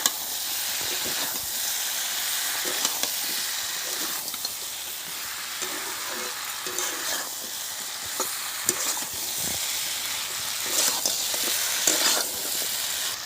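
Crab pieces with green chilies and chili powder sauté in oil in a pan, a steady loud sizzle with frequent scraping stirs and small clatters throughout.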